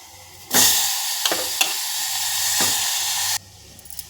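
Onion pieces hit hot oil in a pan with a sudden loud sizzle that holds steady for about three seconds, with a few sharp crackles, then cuts back to a faint hiss.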